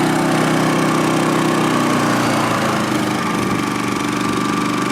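Champion 3400-watt inverter generator with electric start running steadily at close range, a loud continuous engine drone with buzzy mechanical texture and no talking.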